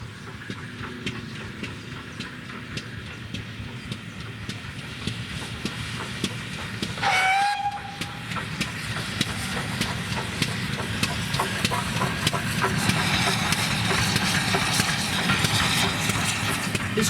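Steam locomotive 9351 hauls a train on level ground on the West Somerset Railway, a steady rumbling chuff and hiss building gradually, with a brief sharp whistle partway through.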